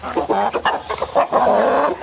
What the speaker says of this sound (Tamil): அதுதான் பெரிய கோழி பேரண்ட் கோழி